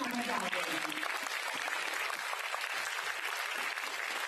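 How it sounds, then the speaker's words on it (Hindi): Audience applause at a Chandigarh music and arts concert, a dense, steady roar of many hands clapping together, loud and close throughout without a break. "अगर आप तालियां बजा देंगे तो मुझे समझ आ जाएगी।"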